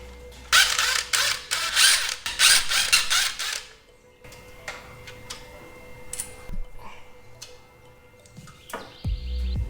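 Loosening the top and bottom kingpin bolts on a Suzuki Jimny front axle: a dense burst of rapid ratcheting clicks at the start, then scattered metallic ticks, taps and clunks of tools at close range, no talking.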